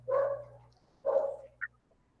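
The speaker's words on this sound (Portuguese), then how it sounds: "Tem um cachorro latindo." A dog gives two distinct barks about a second apart, moderately close and clear, with a faint low hum underneath and no speech.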